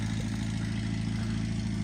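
A tractor engine running steadily nearby, a constant loud low rumble and hum at idle with no change in pace throughout, and no voices.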